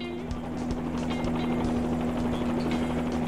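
A helicopter in Microsoft Flight Simulator gives off a steady, droning rotor and engine hum with a strong constant tone, loud and unbroken throughout, with no talk over it.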